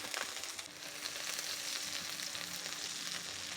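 Chopped onions sizzle steadily in hot oil in a pan for a Bengali mustard pabda fish curry, a dense continuous frying hiss held close and fairly loud throughout with no talking.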